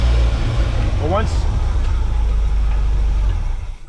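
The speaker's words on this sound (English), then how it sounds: "once the idle or the engine speed catches up, you throttle it, you hold it" A 1979 GMC Vandura G25 van's engine idles with a deep, close, heavy rumble that holds steady across the stretch. A brief voice cuts in near the start.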